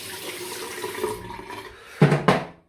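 Tap water runs into a bathroom sink for rinsing after a razor shave, a soft steady trickle followed by two brief louder splashes near the end.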